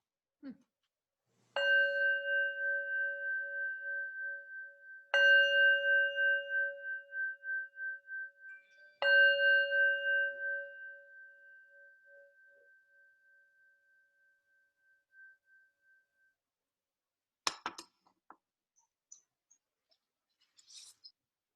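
A meditation bell is struck three times, each clear metallic tone ringing out and slowly fading into quiet, followed by a few small clicks.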